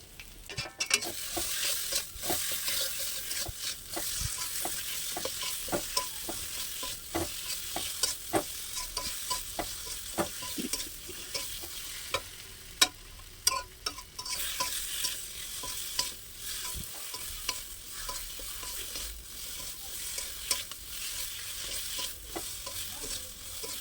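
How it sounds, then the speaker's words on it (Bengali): Jackfruit seed paste is stirred and fried in a wok, with repeated scraping strokes from the spatula over a soft, continuous sizzle and no talking. "এই বাটাটাকে দিয়ে ভালো করে নেড়ে নেব"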